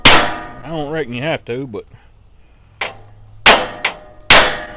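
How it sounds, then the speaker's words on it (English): A hammer strikes a center punch on armor plating for a logging truck, sharp metallic clangs ringing out near and loud, a few separated hits, following a brief spoken line. "I always hit it twice, just to make sure I got a good indentation."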